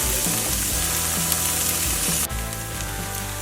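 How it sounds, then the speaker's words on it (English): Tofu sears in a hot pan with a steady, close sizzle that runs unbroken throughout, dipping slightly partway through, with no talking. "now I've got the tofu all seared and looking pretty tasty"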